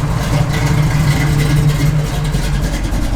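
A 1968 Chevrolet Camaro RS/SS engine runs close behind the car, a loud, steady low exhaust rumble that holds evenly throughout with no voices over it.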